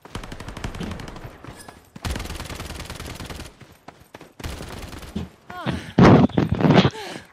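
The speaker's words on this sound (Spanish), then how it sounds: "Disparos, disparos por el muelle, por el barco." Gunfire near a dock in the video game Lost Light, sharp bursts of rapid automatic shots in several clusters with short gaps, loudest toward the end, while a player talks quietly beneath.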